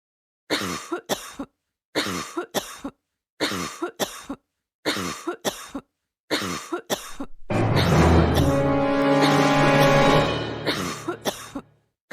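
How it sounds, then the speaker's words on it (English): Seven short, sharp coughs come in a steady rhythm, followed by a long, loud strained wheeze or hacking sound; close and alone. "Juana has a cough again."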